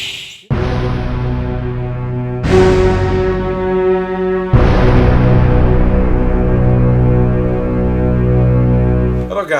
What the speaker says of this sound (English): That's the sound of a gong right there.